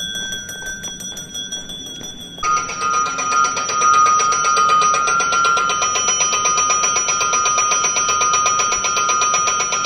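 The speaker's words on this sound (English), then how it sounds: "the bells mean a train is coming" Railway crossing bells at a station in Genoa, Italy, warn of an approaching freight train; a rapid, steady metallic ringing starts abruptly and keeps repeating loud and close.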